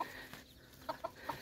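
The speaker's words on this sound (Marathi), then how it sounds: "बघा हीच ती कोंबडी पालन." Chickens on a small farm poultry setup give a few short, quiet clucks in quick succession against faint background noise.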